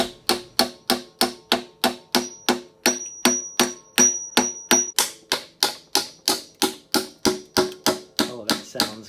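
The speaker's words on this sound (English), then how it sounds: "I switched to hammering in furniture shims" Hammer blows drive furniture shims in to separate a Mazda3 transmission pan sealed with RTV gasket, a steady series of about two dozen sharp metallic taps at an even, brisk pace, close and loud.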